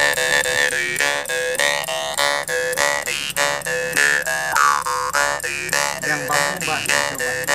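Rinding mouth harp played in a fast, buzzy twang with rhythmic pulses and wavering, sliding overtones, steady and close throughout.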